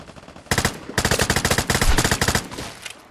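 Rapid automatic gunfire in the video game Vigor on PS5, a long burst of closely spaced loud shots with a brief pause, then more shots trailing off; no talk.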